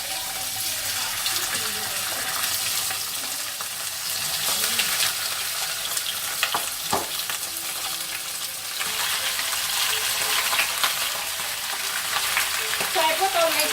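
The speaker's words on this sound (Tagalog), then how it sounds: "So my oil is now very hot, so I'm going to add my chicken." Chicken pieces frying in very hot oil for braised chicken, a steady broadband sizzle and crackle running throughout at moderate level, with a few brief clatters of pieces being added.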